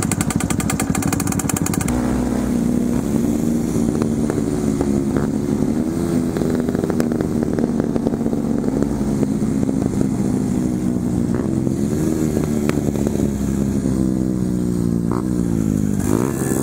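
Motorcycle engine revving in traffic, a steady loud drone with harmonics rising and falling as the throttle varies, continuous throughout with no talk.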